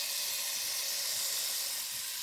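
Green, red and orange peppers with onions sautéing in a pan give a steady, soft sizzling hiss throughout, fairly quiet and unbroken, with no talking.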